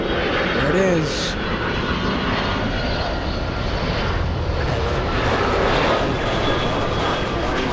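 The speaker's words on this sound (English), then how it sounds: "We're going to zoom into the 757. The Delta Airlines." A Delta Airlines Boeing 757 jet takes off at LAX, a loud, steady broadband engine roar that holds throughout, with a brief whine and faint voices near the start.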